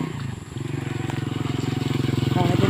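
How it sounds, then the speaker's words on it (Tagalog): A motorcycle approaches head-on and passes on a rural road in Libacao, Aklan, its engine giving a steady, pulsing drone that swells as it nears. "May masalubong kaming motor."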